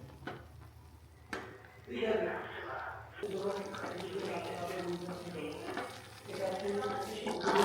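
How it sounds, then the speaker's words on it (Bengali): Homemade ghee simmering over a fire in a pot, with soft bubbling and sizzling while a spoon stirs and scrapes; a person talks over the steady cooking sounds. "আগুনে জ্বালাচ্ছি জাল দিচ্ছি ঘি তৈরি হচ্ছে"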